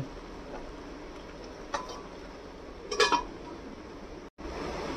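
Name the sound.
pan of pointed gourd being covered with a lid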